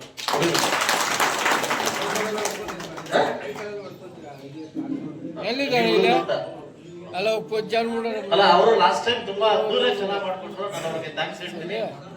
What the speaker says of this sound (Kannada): ಚಪ್ಪಾಳೆ ಕೂಡ ಜೋರಾಗಿ